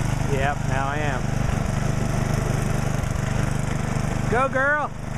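Tractor engine running steadily outdoors during a 2010 blizzard, a constant low idling drone close by, with a few spoken voices over it.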